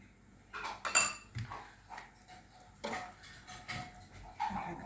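Butter being spread over mesmen dough with a utensil, soft scraping and light metallic clinks and taps coming in short irregular bursts, close and quiet.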